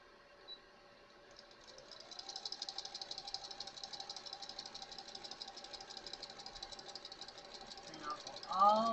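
A sewing machine stitches folded scrap fabric in a fast, steady, fairly soft whir that runs for several seconds before a louder clatter at the end.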